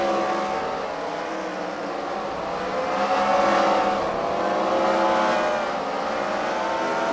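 Race cars run laps on a track at a fight-night racing event, giving a continuous engine roar that swells and fades as cars pass, with no talking.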